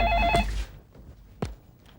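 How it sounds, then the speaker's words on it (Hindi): A telephone bell rings in a home during a Hindi comedy scene: one short, bright ring up front that cuts off, followed by quiet room noise and a faint knock. "आनंद, तुम्हारा फोन है।"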